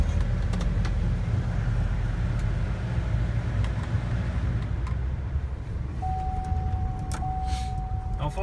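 A 2005 Chevrolet Silverado 2500HD crew cab 4x4 with a 6.6-litre Duramax diesel and automatic transmission, heard from inside the cab while driving: a steady low engine and road rumble, with a thin sustained tone rising over it near the end.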